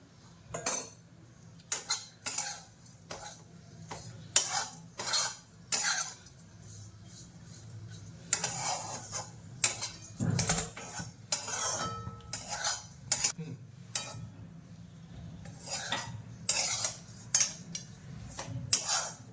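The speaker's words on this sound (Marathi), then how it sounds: "खोबरं सतत हलवत राहायचं" A utensil stirs and scrapes dry coconut roasting in a pan while making Maharashtrian kala masala, giving repeated clinking, scraping strokes in an irregular rhythm, close and fairly soft, with no talk.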